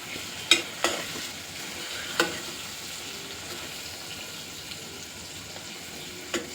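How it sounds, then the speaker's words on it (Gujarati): Aloo fry is stirred together with potato chips in a pan, a low continuous sizzle punctuated by a handful of sharp spoon knocks against the pan. "આ રીતે ચિપ્સ નાખી આપણે બધું મિક્સ કરી લેવાનું છે।"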